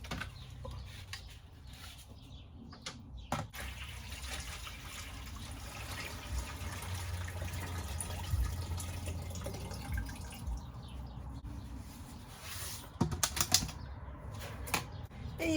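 Water poured from a thermos into buckets in a farm setting, a steady splashing trickle with scattered clunks and drips, alongside faint clucking chickens and flapping wings nearby.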